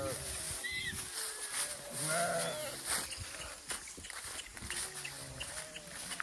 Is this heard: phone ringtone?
no